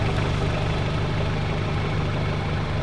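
Car engine idling while the car is moved, a steady close rumble filling the whole stretch with no talk over it.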